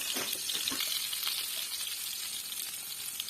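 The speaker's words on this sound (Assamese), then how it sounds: "এতিয়া মই বেঙেনা কেইটা অকণমান তেল কমকৈ দি অকণমান ফ্ৰাই কৰি লওঁ" Brinjal pieces coated in salt and turmeric sizzle in a little oil in a pan, a steady close hiss with a few soft crackles, no talking.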